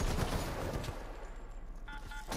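Gunfire in the shooter game The Finals aimed at a turret, a quick burst of close shots at the start fading into lighter sporadic pops and a few beeping game tones, no talk.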